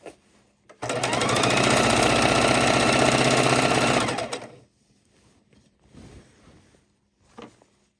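A sewing machine stitches quilt pieces in one loud, steady run of about three seconds, then stops, leaving faint handling noises and small clicks afterward.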